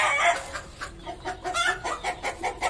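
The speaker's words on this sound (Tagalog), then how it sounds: "Ayan mga manok dito, ayan. Ang dami nila." Chickens cluck nearby in a quick series of short, repeated calls, several birds overlapping with no talking.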